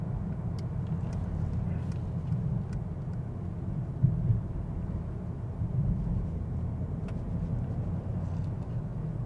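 A 2024 Mercedes S63 AMG rolls through city traffic in comfort mode on electric drive, giving a steady low road and tyre rumble with only a faint motor hum and no engine roar.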